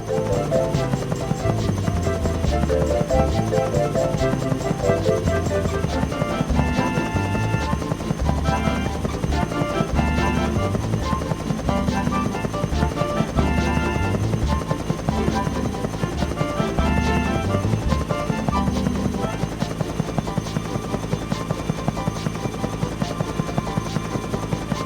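A biplane flies close by in a Thomas and Friends train video game, making a loud, continuous buzzing engine drone that holds steady throughout with a faint rhythmic pulse.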